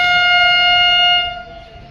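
A Kavach-fitted Lalaguda WAP7 electric locomotive hauling the Ernakulam–SMVT Bengaluru superfast express sounds a loud, sustained multi-tone horn close by, fading out near the end.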